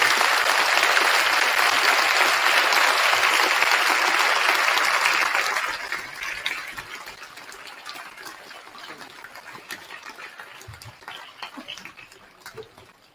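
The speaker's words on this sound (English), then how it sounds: "I ask you to give them a round of applause to show your appreciation." An audience applauds at a Veterans Day program, loud sustained clapping from a large crowd that fades after about six seconds into scattered claps and quiet room noise.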